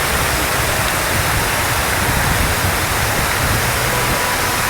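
Cold water sprays down from a large fountain in VDNKh park, Moscow, a loud, dense, unbroken rush of falling water close by with no voices.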